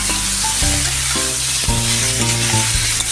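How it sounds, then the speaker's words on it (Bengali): Loud, steady sizzling of vegetables frying in a pan, with intermittent stirring scrapes and a few short tonal beeps in the background. "এই সবজিটা এবার হালকা করে আমি ভাজতে থাকবো"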